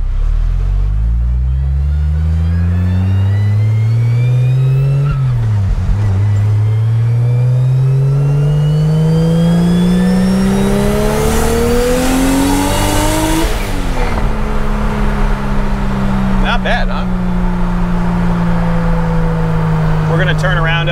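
A 2000 Ford Lightning pickup truck engine revs up steadily, pitch climbing over several seconds to a high scream near 7,000 RPM, then drops back and idles high before another short rise.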